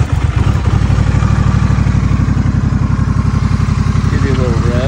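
A 2022 Honda Rebel 1100 motorcycle, already warm, idles close by after its electric start, a steady loud thumping twin-cylinder rhythm holding throughout, with a brief lift in engine pitch near the end.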